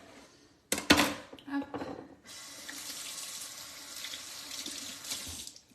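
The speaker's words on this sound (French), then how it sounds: "Je me rince les mains." A kitchen tap runs as hands are rinsed under it, a steady close hiss of water lasting several seconds. It follows a few sharp clatters of handled items and a brief spoken word.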